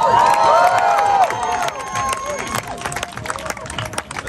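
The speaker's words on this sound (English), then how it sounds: "Let's give John Liu a round of applause." A rooftop campaign rally crowd in Manhattan's Hell's Kitchen cheers and shouts at night, a loud burst of whoops and yells up close that gradually thins into scattered clapping and voices.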